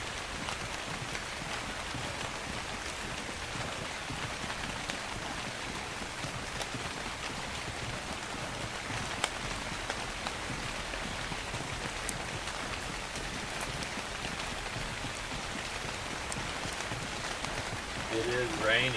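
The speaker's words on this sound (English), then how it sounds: "It is raining." Steady rain falls in the ARK video game on the Ragnarok map, a dense, even hiss that runs unbroken from start to finish with no clear individual drops.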